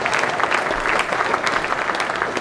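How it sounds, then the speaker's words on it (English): Audience applause at the close of a talk in a lecture or conference session, a steady, dense clatter of many hands clapping evenly for a couple of seconds with no voices over it. "Let's give him a round of applause."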